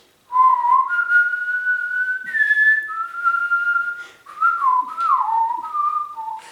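A person whistles the theme from The Good, the Bad and the Ugly, a clear solo melody of sliding, held notes in short phrases, close and fairly loud with no talking.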